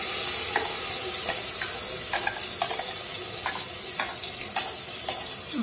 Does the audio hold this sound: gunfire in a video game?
no